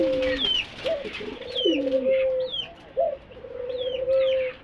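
Pet pigeons or doves kept in a small bird house during hot weather, several soft, close cooing calls in rolling phrases, with a few faint chirps in the background.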